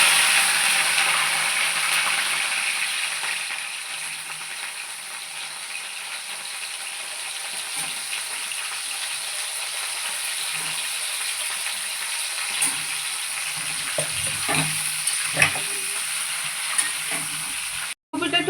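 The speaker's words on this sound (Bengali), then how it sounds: "ফুলকপিগুলো আগে আমি ভেজে নিচ্ছি" Cauliflower pieces frying in oil in a pan for a vegetarian curry with flat beans, a steady close sizzle and hiss with occasional stirring scrapes toward the end.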